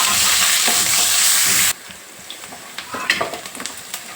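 Onions and green chillies frying in hot oil with cumin and mustard seeds: a loud, dense sizzle that drops suddenly to a quieter crackle, with scattered pops and stirring sounds afterward.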